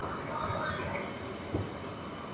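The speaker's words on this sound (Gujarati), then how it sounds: "હું અહીંયા જ ઊભી છું અને ટ્રેન જુઓ બહુ મસ્ત જાય છે." A train rolls past near a station in Sydney, Australia, a low steady rumble at moderate distance with a faint clank partway through.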